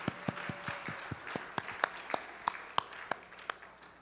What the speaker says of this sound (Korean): 우리 축복하고 환영한다고 크게 박수 한번 하겠습니다